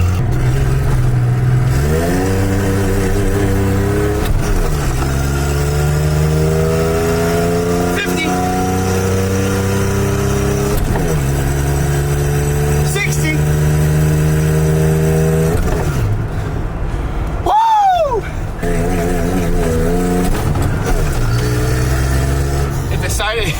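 An old beater car picked up through Facebook Marketplace revs hard. Its engine note climbs repeatedly in loud rising sweeps, then the transmission pops out of first gear and the revs drop abruptly. People talk throughout.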